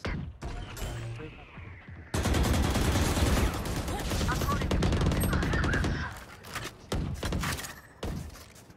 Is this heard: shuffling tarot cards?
no